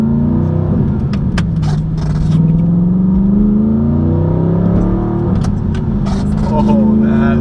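An Audi R8 sports car accelerates, its engine revving in a loud, steady roar that rises and falls in pitch through gear changes, with a voice talking over it.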